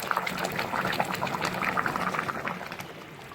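Cooking oil pours into a pot of Cameroonian spicy black sauce with fish, a soft continuous bubbling, sizzling trickle close by, fairly quiet and without talk.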